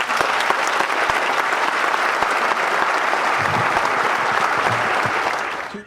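Sustained applause from a large audience at a community college commencement ceremony, dense and steady for about five seconds before tapering off, with a faint voice surfacing briefly near the end.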